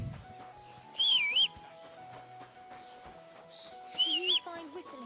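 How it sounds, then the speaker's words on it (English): Whistling in the medieval video game Kingdom Come: Deliverance 2, two short warbling whistled phrases about three seconds apart over quiet game ambience with clicks and soft tones. "Do you find whistling like that fun?"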